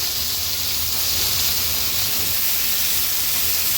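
Stuffed Bombay duck (bombil) fries in oil in a pan, giving off a strong, even, hissing sizzle that holds constant throughout, close and without talk.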